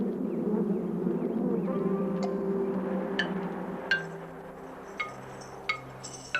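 Honeybees of Italian-derived stock, a low soft buzzing hum that holds steady throughout, with a few faint clinks and ticks toward the end.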